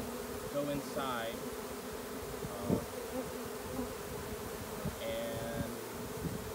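Honeybees swarming around a hive as a queen is coaxed inside, a steady close buzzing drone with individual bees whining past the microphone, no talking.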